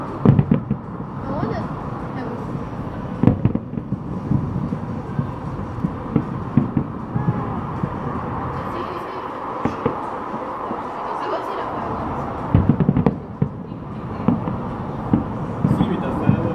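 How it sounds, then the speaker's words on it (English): Fireworks at a new-house celebration crackle and pop continuously, with louder bursts scattered throughout and a dense, rumbling wash of noise. "See with the fireworks."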